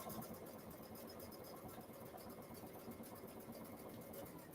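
A sewing machine stitches a seam on a fabric trick-or-treat Halloween party bag, a steady close mechanical whir running evenly without pause.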